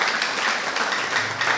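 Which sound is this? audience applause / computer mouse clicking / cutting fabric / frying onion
audience applause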